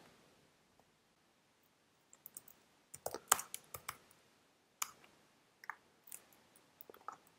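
Mouse clicks in software while adding a new asset to a character list in a Favro game studio workspace: a few sparse, sharp, close clicks, spaced irregularly with quiet gaps between them.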